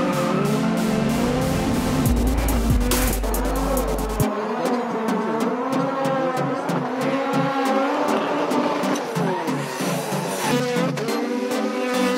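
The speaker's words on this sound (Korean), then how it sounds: "이분은 짐카나의 스릴을 즐기고 계신 듯한데요." A car engine revs hard and fluctuates as it accelerates and brakes through a gymkhana course at Inje circuit, with occasional tire squeal, loud and close throughout.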